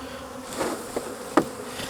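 Angry honey bees from a hive opened after dark give off a steady, fairly faint buzzing drone, broken by a few sharp knocks and taps, with no voices.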